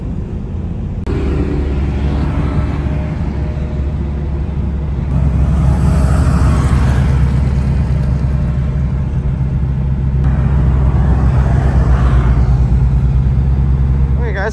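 A BMW drives alongside another car on a racing circuit, its engine a steady low rumble that swells louder about a third of the way in and stays strong, while people talk over it.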